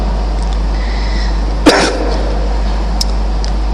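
A single sharp cough bursts out midway through, close and loud against a steady low hum, followed by a faint smaller throat sound shortly after.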